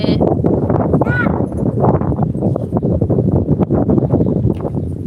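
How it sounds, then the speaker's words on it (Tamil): Strong outdoor wind blows loud and steady across the microphone, with constant rough buffeting and gusty rustle throughout. "நல்லா சூப்பர் காத்து அடிக்குது பாருங்கள்"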